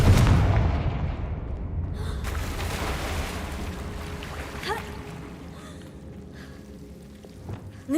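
A Confringo fire spell in Hogwarts Legacy erupts as a heavy blast at the start, followed by a long rumbling decay and a few smaller crackles, ending in a fresh burst.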